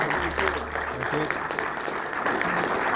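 Audience applause for guests from the UK at a martial arts gathering: a brief, lively burst of clapping with a voice talking over it.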